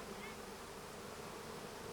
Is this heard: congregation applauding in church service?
no